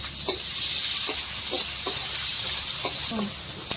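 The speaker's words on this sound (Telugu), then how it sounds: "మంచిగా ఆనియన్ ఫ్రై అయింది" Onions frying in a pan for veg Manchurian give a steady, bright sizzle, with a few soft stirring knocks spaced through it. The sound is close and even, and no one speaks.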